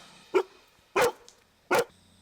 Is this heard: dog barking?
yes